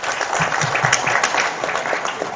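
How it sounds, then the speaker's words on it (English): Applause in the Ugandan parliament during an archbishop's prayer visit, a dense, steady burst of hand clapping from the chamber lasting a couple of seconds, loud and close with no speech over it. "I think he deserves a big hand clap"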